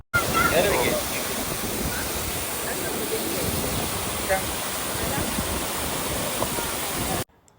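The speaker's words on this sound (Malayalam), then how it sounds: "നമ്മൾ ആ പ്ലാറ്റ്ഫോമിൽ കയറി നിൽക്കുമ്പോൾ ശരിക്കും നമ്മൾ കടലിൻ്റെ ഉള്ളിൽ നിൽക്കുന്ന പോലത്തെ സൗണ്ടാട്ടോ." Sea surf surging beneath the grilled end of a walkway bridge at uMhlanga Beach, a loud continuous rushing wash of water that holds steady for several seconds before cutting off abruptly.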